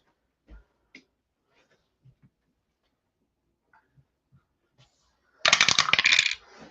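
Dice dropped for a tabletop APBA baseball game: a few scattered light clicks and taps, then a dense burst of rattling and clattering as the dice tumble across a surface for about a second.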